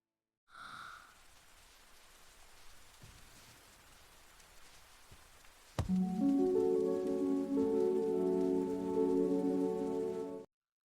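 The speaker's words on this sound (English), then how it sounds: "It is raining heavily." Heavy rain pouring down as a soft, even hiss, continuing steadily when tonal music enters about halfway through.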